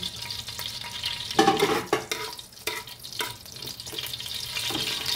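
Reused chicken frying oil heats in a pan, a low steady sizzle with scraping and clattering bursts from handling the pan, close and unaccompanied by voices.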